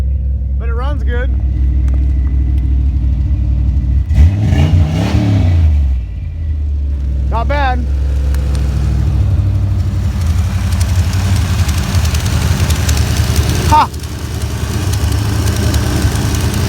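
A turbocharged 1988 Ford Mustang engine with an exhaust leak idles with a steady low rumble, revving up sharply a few times before settling back, while someone talks over it now and then.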